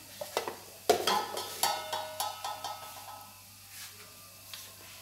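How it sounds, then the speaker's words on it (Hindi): Whole white cumin seeds, a teaspoon, dropped into a quarter cup of hot oil in a pan for aloo palak, crackling and popping in a burst of sharp spits that taper into a soft sizzle, with a few metallic clinks, close and alone. "ऑयल गर्म हो गया तो इसमें मैं 1 टीस्पून सफ़ेद ज़ीरा साबुत डालूँगी।"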